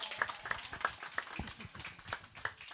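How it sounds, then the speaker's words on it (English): Sparse, fairly quiet clapping from a small audience, with scattered individual hand claps keeping an irregular rhythm for a few seconds and a faint voice or two underneath. "Quick round of applause for Lily."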